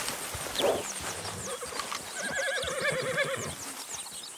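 A horse in the Red Dead Redemption 2 video game whinnies loudly nearby with a shrill, quavering neigh, accompanied by hoof clip-clops and stable ambience, with no talking.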